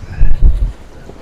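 Wind of about 15 knots buffets the microphone aboard a sailboat at sea between Sylt and Spiekeroog, a loud low rumbling gust that swells twice and then eases, with no talk.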